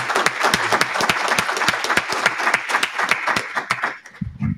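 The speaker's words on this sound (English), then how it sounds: "a big round of applause to Andrew and Chris" An audience applauds warmly, many hands clapping in a dense, lively patter that fades out at the end.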